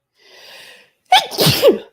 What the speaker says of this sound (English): Oh, that twine makes me sneeze every time.